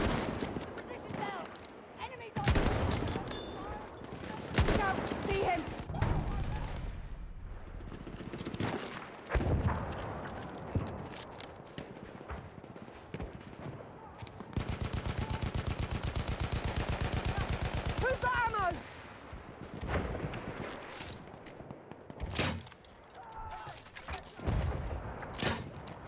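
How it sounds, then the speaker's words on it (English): Rapid bursts of machine gun fire in the World War I shooter Battlefield 1, with sustained automatic volleys and scattered shots, mixed with in-game voices and battlefield noise. "Machine gun, one of theirs."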